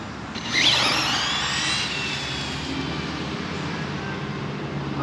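A drag-racing car with a new build on a Tombstone chassis spins its tires off the line, a loud burst of engine roar and tire scrub that peaks early then holds as a steady drone.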